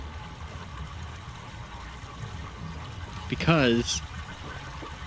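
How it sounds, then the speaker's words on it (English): Water running down a pipe in the video game Myst, a soft continuous trickling wash under a speaking voice, with a brief bright rising warble breaking through near the end. "So now water is going down this pipe, which we can hear."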